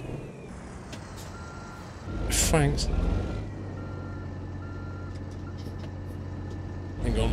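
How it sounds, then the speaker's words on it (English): Truck reversing beeps in a trucking video game, Oregon setting, with steady repeated beeping over a low engine drone, a brief hiss like an air brake, and someone talking briefly. "let me just reverse into this trailer"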